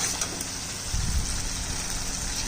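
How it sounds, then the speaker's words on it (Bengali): Water poured into a pan of browned Bengali curry masala, a rushing gush with a brief low splash and burst of sizzling midway, then a steady hiss, no voices. "কষানো হয়ে গেছে, জল দিয়ে দিচ্ছি।"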